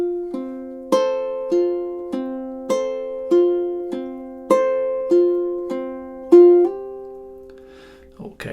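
Ukulele plays the intro of a song from Spirited Away alone, with steady, evenly spaced plucked chords and a repeating melody line, each note ringing and decaying cleanly before the next.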